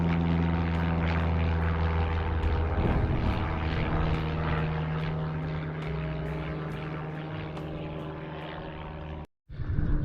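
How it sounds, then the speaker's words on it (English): A propeller plane near Beverley Airfield drones overhead, a loud, continuous engine hum that stays close and steady for the whole stretch before cutting out abruptly near the end. "if you look skywards here you're likely to see a plane or two because Beverley Airfield is over the river"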